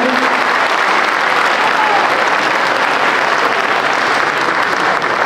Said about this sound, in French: je vous demande d'applaudir, mesdames et messieurs les sportifs